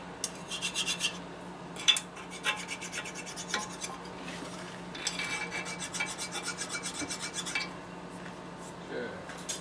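A metal file rasps repeatedly across a part from a 1972 Harley-Davidson XL Sportster 1000cc ironhead engine during a rebuild, each stroke a close, scratchy burst in a steady rhythm over a low background hum, with no talking.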